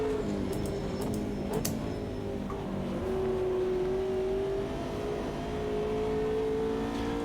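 Porsche and Mercedes GT3 race car engines drone and rev steadily in the Automobilista 2 racing sim, a continuous close engine note with shifting pitch and a few brief clicks early on.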